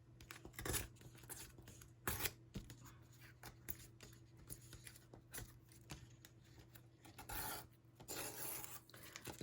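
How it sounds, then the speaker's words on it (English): Quiet, close scratchy rips and rubs as paper edges are torn by hand for a junk journal, in short irregular bursts with brief pauses. "So all I would do is just tear these."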